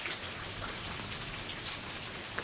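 Steady rain from a passing storm falls on a surface, a dense even patter of drops with no voices, continuous and fairly close throughout.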